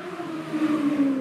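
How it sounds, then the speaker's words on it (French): A motorcycle passes outside during a quiet lockdown relaxation session, its engine a steady humming drone with a slowly shifting pitch, heard through walls at moderate distance and with no talk. "une moto vient de passer."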